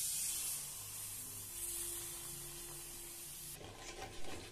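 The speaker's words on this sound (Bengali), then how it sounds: "এবারে এর মধ্যে পেস্ট করে রাখা সরষেটা দিয়ে দেব।" A faint, steady sizzling hiss rises from spices frying in a pan for an okra and potato curry as mustard paste is added, shifting near the end with soft stirring scrapes.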